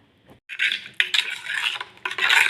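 A spoon stirs washing powder into water in a container, giving close, bright clinks and swishing scrapes in short bursts after a brief quiet start.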